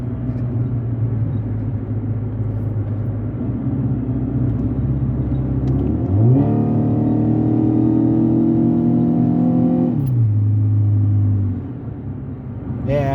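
A car that has been cutting out is driven on its first day after repair, its engine droning steadily, then rising in a sustained rev around six seconds before dropping back to a lower rumble, with no talking.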